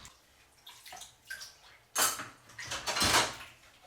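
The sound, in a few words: washing up dishes in the sink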